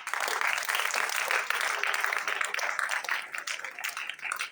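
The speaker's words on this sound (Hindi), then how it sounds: "ताली बजाओ तुम लोग।" An audience claps steadily at an event just before a motivational speech, a dense, fairly close wash of many hands that runs throughout with no clear pauses.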